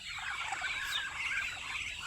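A turkey gobbles in rapid, warbling bursts, fairly close and continuous, with no talking.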